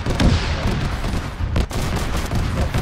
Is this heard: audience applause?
no